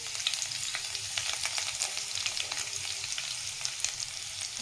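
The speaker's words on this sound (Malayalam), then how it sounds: "വറ്റൽമുളക് ഇട്ട് കൊടുക്കാം, അതിലോട്ട് വെളുത്തുള്ളി ചതച്ചത് ഇട്ട് കൊടുക്കാം" Crushed garlic, dried red chilli, curry leaves and shallots fry in hot oil for a spinach thoran, giving a steady, close, dense sizzle with small crackles throughout and no talk.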